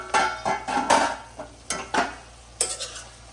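A metal lid set onto a pot of mango chicken curry on the stove, a few sharp clanks and rattles in quick succession, close and loud with no talking.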